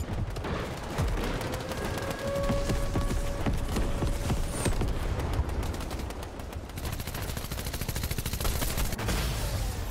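Dense, rapid gunfire from a Fortnite match in Unreal Engine 5 Domination mode, loud and nearly continuous for the whole stretch, with overlapping shots and clattering game effects.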